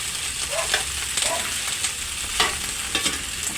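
Food sautéing in a hot pan sizzles steadily, with scrapes and stirring clatters of a utensil against the metal recurring every second or so, close and loud with no talking.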